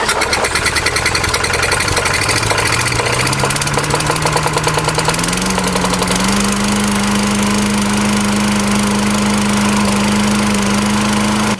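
An old small lawn mower engine, freshly fitted with a replacement carburetor, sputters, catches and settles into a steady loud drone, its pitch rising as it revs up and then holding constant.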